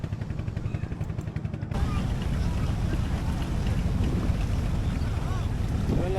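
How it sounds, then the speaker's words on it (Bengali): A boat on the Jamuna river pulls in at a landing ghat by the char lands of Kazipur, Sirajganj. A quieter stretch gives way to a loud, continuous rumble mixed with wind buffeting. "এই মুহূর্তে আমাদের নৌকাটি যে ঘাটে এসে পৌঁছাইছে"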